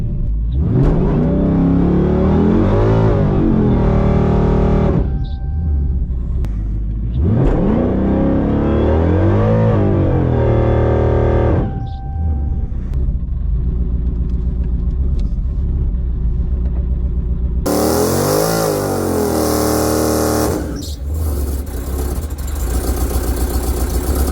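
A Dodge Challenger Hellcat engine roars through two long accelerating pulls on a drag strip pass, revs climbing each time, then drops to a lower rumble before a harsh, loud burst of revving as the car runs badly.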